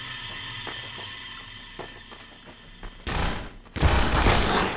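Bursts of gunfire from weapons in the shooter game Half-Life 2, a sparse run of sharp shots giving way to loud, dense volleys in the second half, with no talk.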